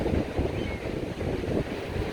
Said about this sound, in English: the ocean isn't as calm as it usually is